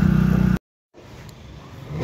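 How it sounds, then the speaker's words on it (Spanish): A car engine hums loudly, cuts out abruptly, then a broader road rumble of approaching cars builds steadily and grows louder toward the end. "Ahí vienen ya los coches"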